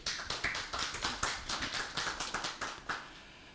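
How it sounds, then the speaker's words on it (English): Sparse, uneven hand claps ring out from a modest audience at an international academic symposium, honoring the professors in a thin, scattered patter of individual claps rather than a full ovation. "Please give them a round of applause."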